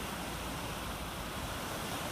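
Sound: ocean waves on a beach in Coatzacoalcos

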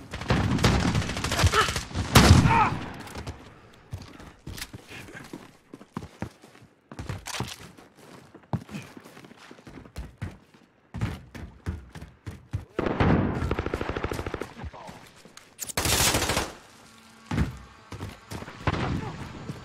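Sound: shotgun firing in a video game

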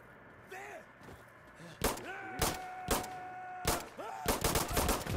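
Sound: gunfire in the video game Insurgency Sandstorm

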